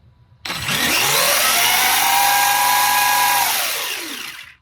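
A Losi Promoto MX RC motorcycle motor revs hard at about three-quarter throttle, a loud, sustained high-pitched whine that holds steady for several seconds, then tapers off at the end.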